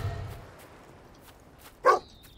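A puppy in the Fable 2 video game lets out one short, sharp bark near the end, after a quiet stretch of faint low background sound.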